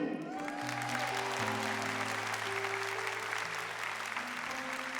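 A church congregation applauds during a priest's sermon, a sustained wash of many hands clapping at moderate distance, with a low organ or keyboard chord sounding beneath.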